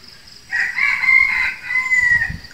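A rooster crows at dawn in a misty hillside village at Kampung Cherengin, Janda Baik, one long drawn-out cock-a-doodle-doo rising clearly over quiet morning background and trailing into a second call.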